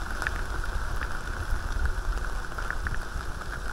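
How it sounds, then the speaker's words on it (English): Heavy rain pours steadily and loudly around a cyclist riding between Vanh Thanh and Lang Co, a dense continuous hiss with scattered droplet splashes and no pauses. "It's raining pretty hard again."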